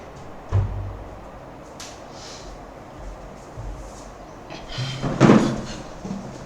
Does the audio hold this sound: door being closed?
yes